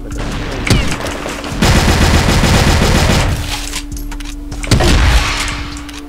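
Rapid bursts of AK rifle gunfire in the shooter game CrossFire, loud and close, with dense automatic volleys that swell and fade around a few sharper single shots.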